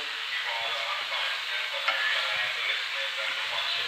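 Ackee and saltfish sizzling in a pot on a Jamaican breakfast stove, a steady close hiss of frying with faint scraping of stirring underneath, no talking.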